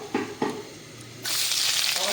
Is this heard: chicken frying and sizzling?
yes